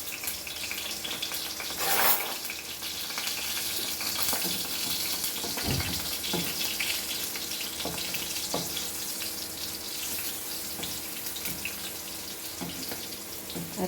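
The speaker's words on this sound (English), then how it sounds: "Oil is ready. Now I will just fry this." Mackerel fish roe frying in a small amount of hot oil, a steady close crackling sizzle running throughout with occasional sharper pops.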